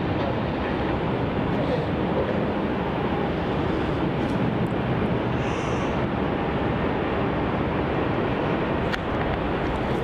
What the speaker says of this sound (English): This is Virgin Australia flight 735 departing off to the Gold Coast. It's the 737-800.